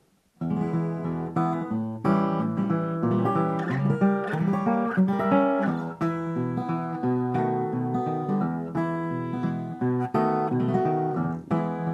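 Diminished guitar chords strummed in quick triple rolls, each chord rattled three times before sliding to the next, a steady bright progression with no talking.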